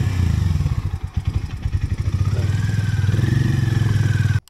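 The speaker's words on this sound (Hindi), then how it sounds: "हार्ली डेविडसन X440 का एग्जॉस्ट नोट डीप है जिसमें लो फ्रिक्वेंसी ग्रॉस भी है" A Harley-Davidson X440 motorcycle exhaust at close range gives a deep, pulsing low thump, rising in pitch briefly before a steady idle, then cuts off abruptly.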